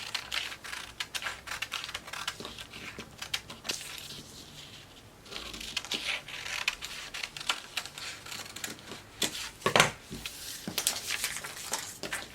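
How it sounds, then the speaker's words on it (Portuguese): Scissors cut fabric for a blouse pattern, giving repeated crisp snips and dry crunching rasps up close, irregular in rhythm, with no talking. "Já vou cortar aqui a parte costa."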